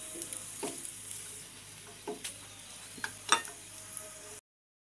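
Spring rolls made with steamed homemade sheets fry in a little oil, giving a faint, quiet sizzle with a few soft crackles and stirring clinks, no talking.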